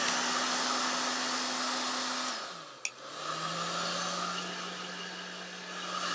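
Hand-held hair dryer blowing steadily on a warm setting, a continuous airy roar with a low motor hum that dips briefly as the setting is switched, then resumes at a slightly different pitch.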